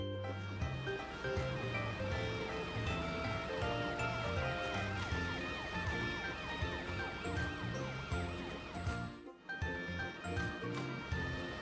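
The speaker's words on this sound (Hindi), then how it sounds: "मैट एम्बर दी एम्बुलेंस को बुलाने गया है।" A bright, cartoonish ambulance siren in an animated cartoon wails continuously alongside tinkling musical tones, steady and fairly faint, with a brief dip near the end.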